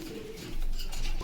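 Pigeons cooing at a busy pigeon market, a low murmuring coo running beneath a brief, slightly louder stretch of market bustle.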